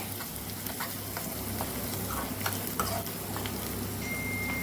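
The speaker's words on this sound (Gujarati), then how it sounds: "બટર સાથે લસણ સરસ સતળાઈ જવું જોઈએ." Garlic sautés in butter with a steady, soft sizzle and scattered small pops and crackles, moderately close and alone without voices.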